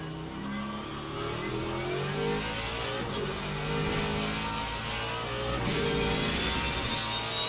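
GT3 race cars in Le Mans Ultimate at Bahrain, including a Lexus and a McLaren, drone and rev steadily at close range, with engine pitches rising and falling through the shifts.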